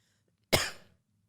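A single short cough, sharp and close, fading within half a second against a quiet background.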